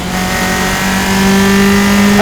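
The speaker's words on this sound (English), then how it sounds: "let's try and listen to that engine." Loud, sustained engine roar of a Formula Enterprise single-seater race car during a race, holding a high, steady pitch that climbs slightly, close and continuous throughout.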